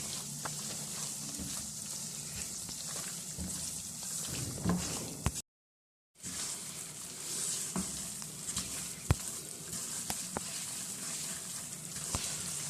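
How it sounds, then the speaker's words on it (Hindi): Wheat flour cooking in ghee over a low flame gives a soft, continuous sizzle with occasional scraping stirs and a brief total gap partway through. "आटे को हमने तब तक पकाना है घी के अंदर"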